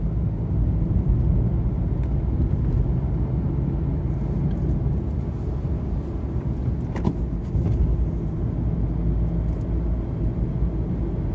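A bus draws near along NH 748 through forested hill country near Mollem, its low engine rumble steady and loud throughout with a brief swell around the middle, no voices present.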